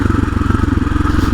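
A motorcycle engine pulses with a rapid, even throb on Rocky Gap Road, a dirt road near Red Rock Canyon; it is close and loud, and the rough chugging holds steady through the short burst with no voices.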